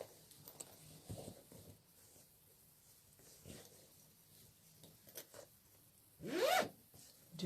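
A zipper on a handmade fabric pouch is pulled closed in one quick, loud rasping stroke near the end, preceded by quieter fabric handling and soft rustles close by.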